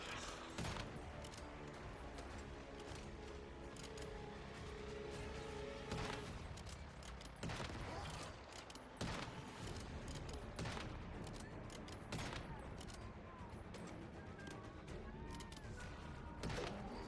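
Game gunfire from Once Human rattles in repeated bursts with sharp individual shots, layered over continuous background music and effects at moderate level throughout.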